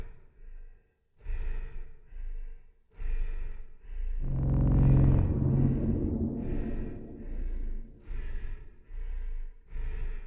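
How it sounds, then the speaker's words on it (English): Heavy breathing added as a sound effect in a video edit, heard as a series of close, raspy inhales and exhales in an uneven rhythm, with one long, deep, shuddering breath in the middle. "I put in a heavy breathing sound in there."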